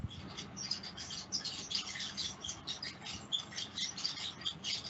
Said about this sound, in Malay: dengar bunyi apa tu, bunyi burung apa